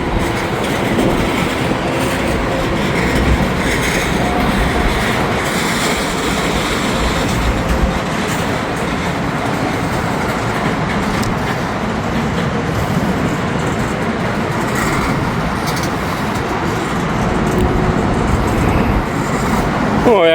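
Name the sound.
freight train with empty cars and containers passing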